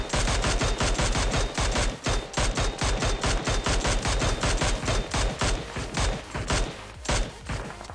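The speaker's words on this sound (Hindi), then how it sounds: "इस साइड बहुत फायरिंग की मुझे साउंड आ रही थी" Rapid automatic gunfire in PUBG Mobile during a solo-versus-squad fight in Pochinki, with dense bursts of shots following one another at close range and loud throughout, no talk.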